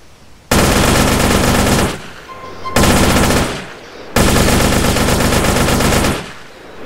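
Tec-9 submachine gun firing in modded GTA San Andreas, three long sustained automatic bursts of rapid close gunfire, each lasting about one to two seconds, separated by short pauses and echoing tails.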